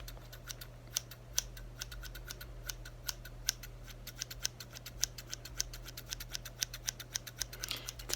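Close, crisp scissors snips cutting hair in a men's shave role play, a long run of quick, irregular clicks over a quiet steady hum, with no talking.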